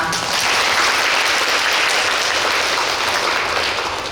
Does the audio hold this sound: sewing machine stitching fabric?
no